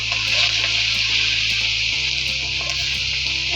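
Spices and garlic sizzle in hot coconut oil in a pan, a steady, bright, hissing crackle that runs throughout with a low hum beneath it.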